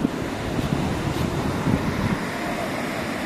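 Sea waves at Gangasagar beach wash in as a steady broadband roar, blended with wind buffeting the microphone, with no clear speech.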